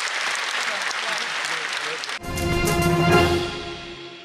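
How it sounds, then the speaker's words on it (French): Children and a crowd cheer and applaud at the final of a national reading contest in Abidjan, Côte d'Ivoire, loud sustained clapping and shouting bursting in after a stretch of noisy music. "Des cris de joie, des danses, des chants, mais aussi des pleurs à l'occasion de la finale du concours national de lecture."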